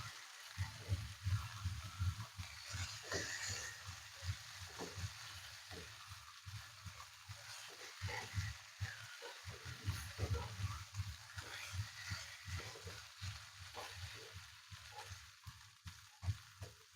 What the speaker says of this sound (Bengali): 3 মিনিট পর আমি একটু নেড়ে দিচ্ছি।